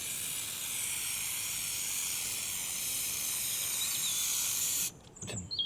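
An aerosol can of Jenolite stop leak sealer sprays onto a campervan roof in one long, steady, close hiss lasting about five seconds, then cuts off with a brief clatter.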